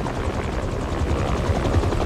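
Helicopter rotor blades in the Spider-Man 2 video game, a steady close thumping chop with a deep low pulse that holds for about two seconds, with no talk over it.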